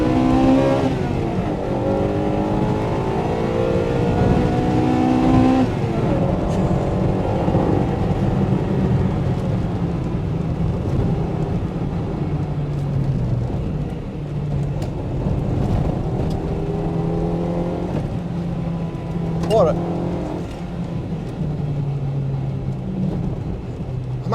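Honda Integra Type R DC2 with its B18C6 engine accelerating hard on a clear road, revs rising and falling through the gears in a loud, steady run with one brief higher whine near the end.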